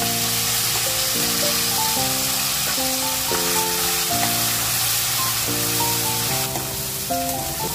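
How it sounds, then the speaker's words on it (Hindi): Sliced besan gatte frying in oil with cumin, bay leaf and asafoetida, a continuous bright hiss of frying sitting beneath steady melodic background music. "अब हम इसमें गट्टे को जो हमने काट के रखे थे उनको फ्राई करेंगे"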